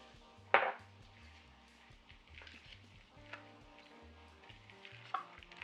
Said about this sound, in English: We are going to continue mixing the batter.